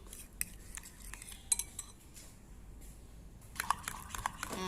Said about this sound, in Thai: ผสมแป้งกับน้ำเย็นให้เขาเขากันนาะเป็น ละเอียดนะจ๊ะเนาะ